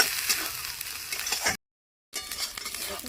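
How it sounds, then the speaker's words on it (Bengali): Spices sizzle with grated coconut in a hot pan while being stirred for a taro-stem dish: a close, bright frying crackle with scraping stirs, broken by a short silent gap before the sizzling resumes. "নারকেলের সাথে ভালো করে মশলা কষে নেব"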